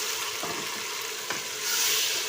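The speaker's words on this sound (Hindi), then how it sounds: "अब इसे भी हम भूनेंगे इसके साथ।" Tomato paste and garlic fry in a pan for a Pakistani eggplant and potato dish, a steady loud sizzle with a couple of soft stirring scrapes, growing hiss near the end.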